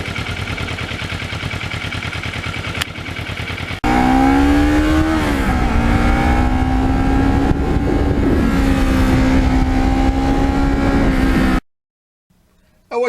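A 2009 Kawasaki Ninja 650R motorcycle being ridden, its engine droning steadily and rising in pitch as it accelerates, loud and close, then cutting off abruptly near the end.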